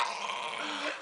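A dog growls steadily and fairly close for about a second, a continuous rough rumble with a faint whimpering edge near the end, no talking over it.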